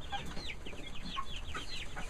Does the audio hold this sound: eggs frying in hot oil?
no